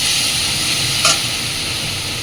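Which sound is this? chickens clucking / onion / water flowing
onion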